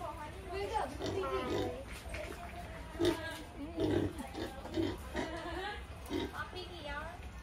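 Pigs grunt and oink in short repeated bursts nearby while people talk over them.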